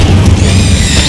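Incendio fire spell cast in Hogwarts Legacy, a continuous roaring, crackling burst of flame with a deep rumbling low end, loud and sustained through the short moment.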